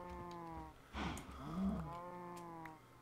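Cows moo in a survival video game, a couple of drawn-out low calls with a brief rustle between them, moderately close against a quiet background.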